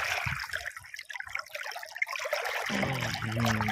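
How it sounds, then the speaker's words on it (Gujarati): Irrigation water from a dam channel flowing into a farm field, a close trickling and splashing stream that keeps running steadily, with a rising tonal whine joining in near the end. "ફાઇનલી આપણા ખેતરમાં પાણી ચાલુ થઈ ગયું"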